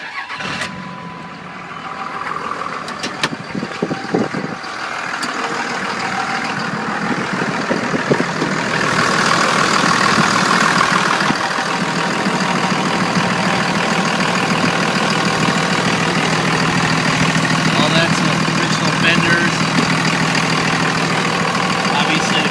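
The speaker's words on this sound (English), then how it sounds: "I'm going to start the vehicle so you can hear it run under the hood." A 2001 Dodge Ram diesel truck engine turns over and settles into a steady idle, a loud, continuous rumble heard up close under the hood.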